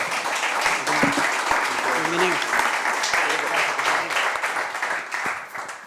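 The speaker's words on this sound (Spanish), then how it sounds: "a los dos les pido un gran aplauso" An audience at a talk applauds to welcome two speakers, with dense, steady clapping that holds throughout and a few voices murmuring underneath.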